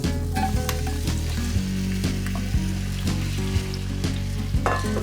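Potatoes frying in hot oil, a dense, loud, continuous sizzle and crackle with occasional clinks and scrapes from the pan, heard up close with nobody speaking.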